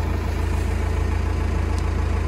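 A corn silage machine runs steadily with a continuous low mechanical drone and rhythmic engine pulsing, close and loud throughout, no voices.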